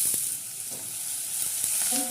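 Small diced potatoes hiss and sizzle steadily in hot refined oil in a frying pan, with faint stirring taps under the bright, constant crackle.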